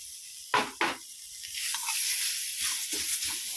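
Minced pork stir-frying in a pan sizzles and hisses steadily at close range, with a couple of sharp scraping stirs at the start and softer stirring later.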